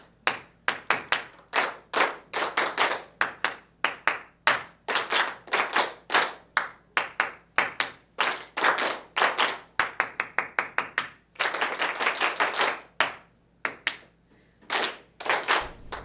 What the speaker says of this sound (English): Okay, we'll clap, and then we'll go to the instruments after this.